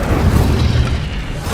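A fire spell cast in Hogwarts Legacy: a loud, close, rumbling whoosh of flame that bursts at once and roars steadily for a moment before easing slightly, with no voices.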